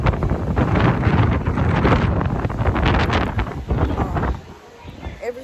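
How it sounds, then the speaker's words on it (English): Strong gusts buffet the microphone beside an outdoor pool, a loud rumbling roar that rises and falls for several seconds before easing off near the end. "Every time I come to that side, the wind blows me."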